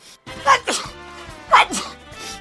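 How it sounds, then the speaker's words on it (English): A single sneeze bursts out with a sharp intake and explosive release, followed by a second similar burst about a second later, close and fairly loud. "Wait, I'm gonna sneeze."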